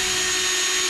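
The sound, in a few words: power drill drilling holes into a Supra car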